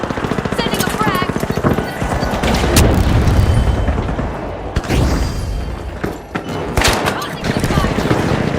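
A frag grenade goes off in a video game's firefight: rapid bursts of automatic gunfire, heavy booming blasts and crashing impacts, loud and dense, easing briefly before the shooting picks up again.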